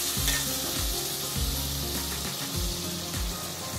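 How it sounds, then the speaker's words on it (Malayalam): Coconut milk poured into a pot of simmering Kerala chicken curry (chicken mappas), giving a loud close sizzle with stirring and bubbling and no talk. "നമുക്ക് ഇതിൻ്റെ അകത്തോട്ട് തേങ്ങാപ്പാല് ചേർത്ത് കൊടുക്കാം."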